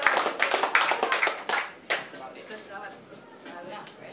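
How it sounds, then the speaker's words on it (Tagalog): Audience at a rap battle bursts into a short round of clapping, dense and loud at first, then thinning out and fading within a few seconds. "Isang malakas na palakpak."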